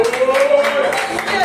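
Church congregation clapping in brief, steady bursts during a worship service, with a voice carrying over the applause for about a second and a half.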